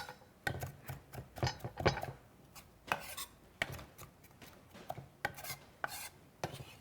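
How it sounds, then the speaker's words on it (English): A knife chops fresh dill on a cutting board in a run of close, crisp, irregular strokes, some closely doubled, with short pauses between bursts. "Chop it up."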